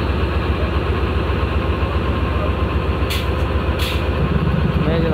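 The diesel locomotive of the Shalimar Express idles loudly and close by, a constant heavy rumble with steady mechanical drone and no change in pace, briefly joined by a couple of faint hissing bursts.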